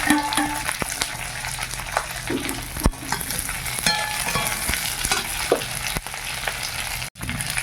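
Grated ginger and garlic sizzle steadily in a hot pan in a village kitchen, with a spatula scraping and stirring at intervals through the continuous frying hiss.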